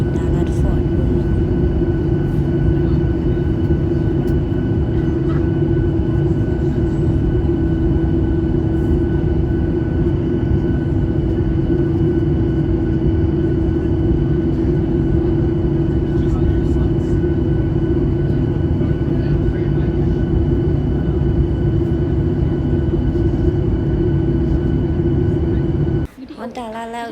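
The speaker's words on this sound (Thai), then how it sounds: "เป็นสนามบินดัลลัสฟอร์ตเวิร์ธ" Steady, loud droning hum of ambience at Dallas Fort Worth airport, continuous for nearly half a minute with voices in the background, before cutting off abruptly near the end.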